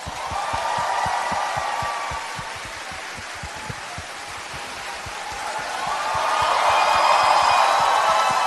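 Crowd at a packed talk concert applauding to welcome the hosts, a dense wash of clapping that swells, dips slightly, then grows louder again toward the end, with cheering voices mixed in.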